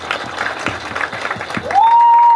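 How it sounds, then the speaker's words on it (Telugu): Applause from an audience at a Telugu film press meet, a steady wash of clapping for about two seconds before a sustained electronic feedback-like tone rises over it. "and big clap for తెరచాపా please"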